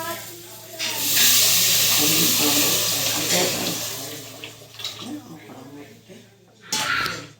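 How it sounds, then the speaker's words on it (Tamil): Water poured from a tap-like stream into a tamarind masala mixture for fish curry, a loud close gushing and hissing that softens and breaks into splashes before a final brief burst, with a voice talking over it. "அதை வந்து இந்த மாதிரி பானி தண்ணியும் ஊற்றணும்"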